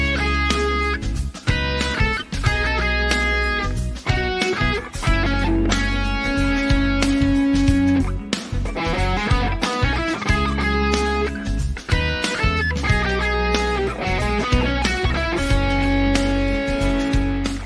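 Electric guitar plays a fast, busy lead phrase alone, loud and close, with quick runs of notes, a few sustained held notes and short gaps between phrases; no talking.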